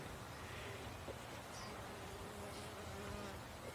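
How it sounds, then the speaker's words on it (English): Small bumblebees buzz steadily around potted raspberry flowers in a small back yard garden, a faint, continuous insect drone over a quiet outdoor hiss, with no voices. "they're being pollinated not by my own bees but by a load of these little bumblebees"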